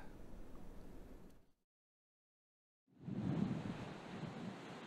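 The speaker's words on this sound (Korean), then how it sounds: "높고 거친 파도가 흰 포말을 일으키며 폭우를 향해 밀려옵니다." High, rough waves crash and surge with white foam toward Wolpyeong harbour in Seogwipo, a loud broad roar that cuts out completely for about a second and a half, then returns strongly.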